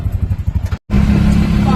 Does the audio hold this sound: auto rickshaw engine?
yes